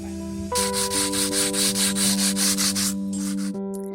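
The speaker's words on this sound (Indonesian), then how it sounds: "pengrajin patung di sini sangat terampil dan telaten saat memahat batu untuk dijadikan patung atau arca" Stone carving by a craftsman making statues in Mojokerto, heard as a steady rhythmic rubbing or rasping scrape with about a dozen even strokes, close and prominent over a sustained musical drone.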